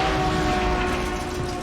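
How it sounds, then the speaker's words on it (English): A train rumbles along steadily in Resident Evil 0, a continuous loud mechanical drone with a sustained tonal hum and no talking. "A quaint little train."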